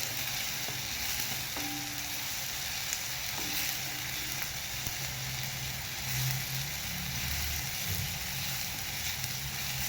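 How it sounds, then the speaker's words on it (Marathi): Ginger, garlic and chilli fry in a pan for a dhaba-style cashew curry, giving a steady, close, continuous sizzle with soft stirring, with no voices. "आलं, लसूण आणि मिरची पण याच्यात चांगली बारीक करून हे चांगलं भाजून घेतलेले आहे"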